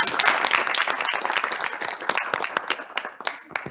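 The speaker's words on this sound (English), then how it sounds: "Can we please give a round of applause?" Audience applause at a SENTECH research and innovation collaboration network launch event: dense, steady clapping from a sizable crowd, loud and sustained throughout with no pause.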